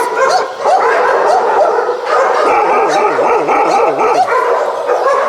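An eight-year-old rescued dingo-type dog, once chained outdoors, barks, yips and whimpers in a steady stream of close, loud, wavering cries.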